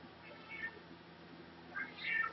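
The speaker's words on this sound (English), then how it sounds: "His meowing is just so brutal." A house cat meows insistently in a few drawn-out, plaintive calls over a low steady room hum, close to the microphone and with no talking.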